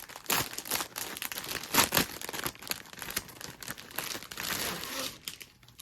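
A cross stitch craft kit, about 14 by 14 inches, being pulled from its plastic bag, with close, loud crinkling and rustling of the packaging in irregular bursts throughout.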